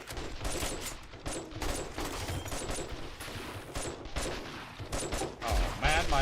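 Gunfire in the survival game 7 Days to Die crackles in dense, repeated bursts, loud and close, with rapid-fire volleys that break into short gaps. Faint voices are mixed underneath.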